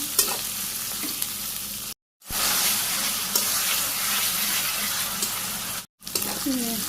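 Potatoes sauté with onion, garlic and ginger in a pan in a Bangladeshi village kitchen, with a loud, steady sizzle and scraping stirs that run nearly throughout and break off in two brief silences.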